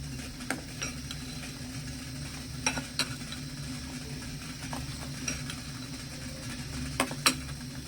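A soap mixture with neem leaf and turmeric juice is stirred in a pot on a gas stove, giving a faint low sizzle with scattered soft clicks and scrapes from the utensil.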